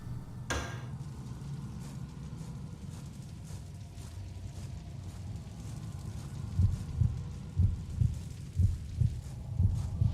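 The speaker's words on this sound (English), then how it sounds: "The heartbeat alerts us to something going on." Heartbeat warning in the video game Kuon: a low, muffled thumping pulse under a dark ambient hum, faint at first and then growing into a steady, stronger double-beat rhythm over the last few seconds.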